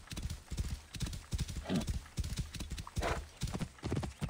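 Horse hooves clip-clop steadily at a riding gait in Assassin's Creed Origins, loud and close, with a brief whinny partway through and no speech over them.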